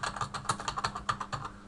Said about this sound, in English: So I'm just typing in a title for the next bit of music I'm gonna do.